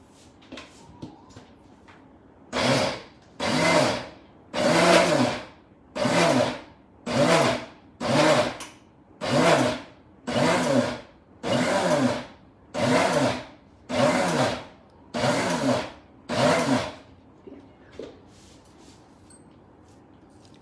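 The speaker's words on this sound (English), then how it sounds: "So my mixie can grind up till this 1 cup of urad dal." A mixie grinder working a cup of soaked urad dal, running in about a dozen even, roughly one-second pulses with short pauses between, loud and close.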